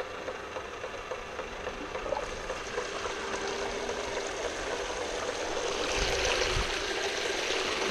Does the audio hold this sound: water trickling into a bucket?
yes